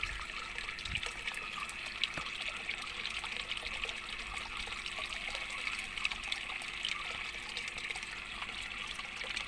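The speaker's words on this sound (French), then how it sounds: "On entend bien le bruit de la pompe qui fait du bruit." A cheap Aldi pond pump runs in a garden pond, with water trickling and dribbling steadily. The sound is soft and continuous, with no voices.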